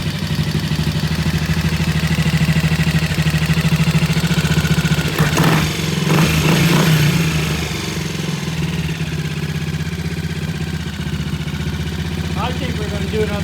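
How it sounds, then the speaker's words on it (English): A T20M motorcycle with a worn carburetor idles steadily and close by, its low uneven throb rising and falling throughout, with a brief burst of louder activity midway. "it's been sitting here idling up and down for about the last 15 minutes"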